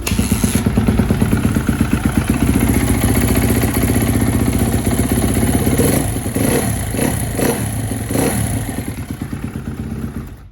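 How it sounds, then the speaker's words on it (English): A 2018 Kawasaki KX250F dirt bike engine, cold and recently rebuilt after months sitting, runs loud and close with a steady rough clatter and a few heavier throttle blips partway through. "I'll kick her over, show you guys it runs, but it's not the best."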